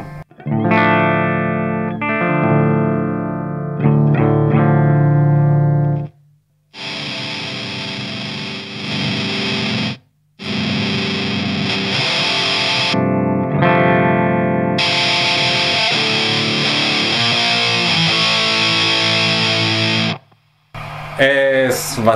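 Ibanez RG350DX electric guitar played through a DOD Metal X FX70 pedal on its clean setting, ringing notes and chords in several bursts separated by short silences, loud and close.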